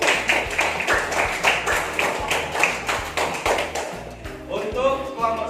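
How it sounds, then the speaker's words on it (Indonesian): A class group in a lesson receives rhythmic clapping from classmates, steady repeated claps at a quick even beat, fairly faint, with voices faintly mixed in and a low patterned hum underneath. "Tepuk tangan buat kelompok 1."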